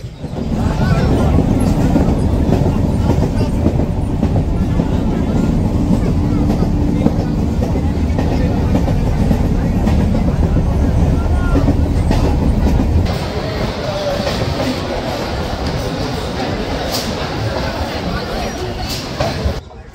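A local train running from Sealdah to Namkhana rattles along loudly with steady clickety-clack and wind rushing past, the roar easing somewhat partway through as it continues on.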